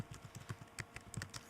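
Quick light keystrokes on a computer keyboard, a short irregular run of faint, close clicks entering text, with no talking.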